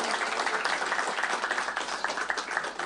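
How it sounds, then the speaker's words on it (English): An audience at an ISKCON gathering in Coventry gives a steady round of applause, dense clapping from a crowd indoors that continues throughout without a break. "Come on, another round of applause for this."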